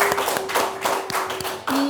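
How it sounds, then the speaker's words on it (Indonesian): Classmates clap for a student in a classroom, a few close, uneven bursts of hand claps over a steady tonal hum, with a brief shift in the background tone near the end. "Bagus, tepuk tangan teman-teman untuk Hasbi."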